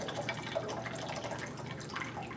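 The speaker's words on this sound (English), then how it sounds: "Watch how much water drains out." Water drains steadily out of an imploded, inverted aluminum can in a lab, a continuous soft splashing trickle that stays even throughout, close and fairly quiet.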